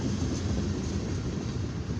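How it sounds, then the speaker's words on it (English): The last car of a long eastbound CFE mixed grain freight train rolls past on a rainy afternoon at about 34 mph, a steady, broad rumble and rattle of wheels on rail, fairly close, with no voices. "This is a eastbound CFE mixed freight train with grain with 510 axles at a speed of 34 miles an hour."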